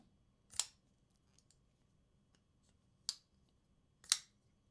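A Derek Stang Pyrenees pocketknife gives three sharp, crisp clicks, well spaced apart in an otherwise quiet room, each one brief and close.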